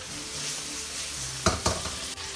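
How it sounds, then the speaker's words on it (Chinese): A swimming crab pan-fries in a wok with scallion, ginger and garlic, making a soft, steady sizzle close by, broken by a few sharp clacks as it is turned. "把这个蟹给它稍微煎一下啊。"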